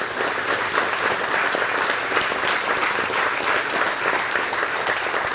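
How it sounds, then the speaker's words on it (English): A museum speaker series audience claps for the presenters in a sustained, even burst of applause that fills the room, many hands at once, loud and continuous with no talk on top. "I'd like to get a round of applause for our presenters who did a great job."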